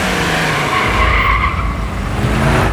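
A cartoon car from the animated series Gattu Battu speeds off with tires skidding, a loud continuous screech and roar that holds steady throughout.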